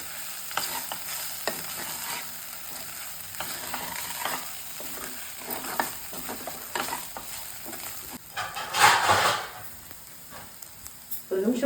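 Aval upma (poha) being stirred in a pan: steady scraping and stirring with a light sizzle, growing louder with a burst of scraping near the end; a voice talks faintly in the background.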